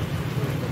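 Rain falling on a rainy day in south Kolkata, a brief steady wash of rain with a low rumble under it and no talk.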